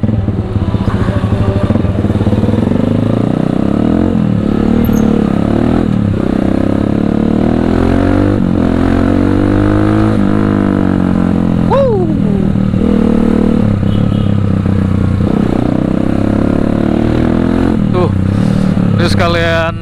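A Viar Cross-X 200 SE motorcycle is ridden through heavy traffic, its engine droning loud and close with shifting pitch and brief revs, the steady rumble mixed with road and wind noise and a voice talking over it.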